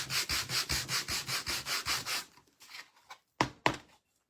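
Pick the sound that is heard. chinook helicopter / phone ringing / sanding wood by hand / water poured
sanding wood by hand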